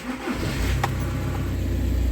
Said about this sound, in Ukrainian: Щоб заробив руль, нам потрібно завести машину. Заводимо машину.